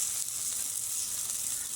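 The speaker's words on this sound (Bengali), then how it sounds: "বাটা মশলা ভালো মতো ভাজা হয়ে গেছে" Ground spice paste of dried red chilli frying in a pan makes a steady, even hiss of sizzling throughout, close and unbroken, with no talk.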